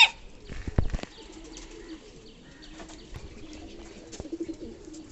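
King pigeons coo softly in a small bathing pool, with low, repeated murmuring calls, a few sharp splashes or wing flaps at the start and occasional taps throughout, all fairly quiet and close.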